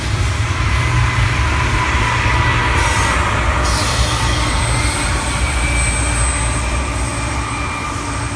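A long freight train with distributed power locomotives at the rear rolling past in Kansas City, Missouri, a loud continuous rumble and wheel roar with a high squealing tone running through it.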